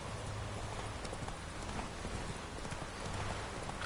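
Horse hooves clip-clopping in the video game The Witcher III, a steady, even trot of hoofbeats over a dense ambient bed of wind or rain.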